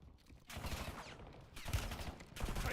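Gunfire in a military shooter video game crackles in bursts, several rapid volleys separated by short gaps, moderately loud.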